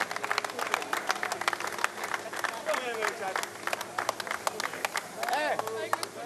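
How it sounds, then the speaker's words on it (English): A crowd applauds a third-place overall finisher at a 2022 truck race at Zolder, with dense rapid clapping running throughout under a commentator's voice. "A big round of applause for Steffi Halm, third place overall in that race."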